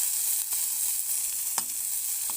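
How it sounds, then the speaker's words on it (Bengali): Continuous hissing sizzle of food frying in hot oil, with a few soft clicks of stirring. "তেল দিয়ে এটাকে ভাজা ভাজা করছি"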